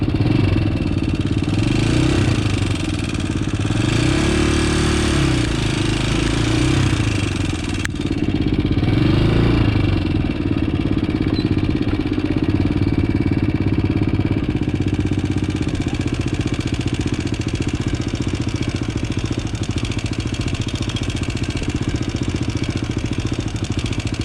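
A motorcycle engine runs steadily throughout a category A riding exam on a riding-school training ground, with a loud continuous idle and rising, falling revs in the first ten seconds as the bike maneuvers, then a steadier drone.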